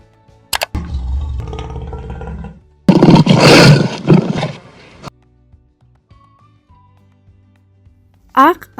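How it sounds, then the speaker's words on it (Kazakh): A lion gives a deep, rough roar of about two seconds, loud and close, preceded by a spoken word and a lower rumbling growl, then quiet with another short voice at the end. "Арыстан."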